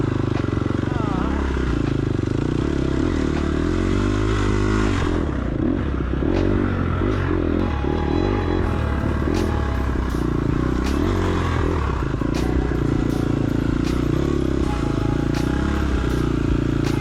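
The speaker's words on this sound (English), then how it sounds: "You hear me pick up the RPMs there." A dirt bike engine rumbles loud and close through a tight wooded hare scramble section, revs rising and falling with clatter and scrapes, and a rider talks over it.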